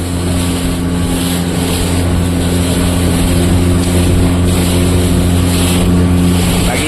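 Loud, steady drone of a motorboat engine running continuously at low speed near Bet Dwarka, with wind buffeting the microphone and faint water noise.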